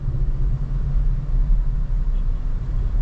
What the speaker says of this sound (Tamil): நம்ம ரொம்ப ரஷ் பண்ணால் தான் இந்த ரம்பிள் கேட்குது